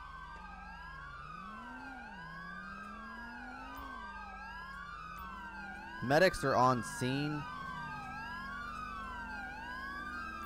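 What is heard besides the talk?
police sirens in the video game GTA 5 (LSPDFR)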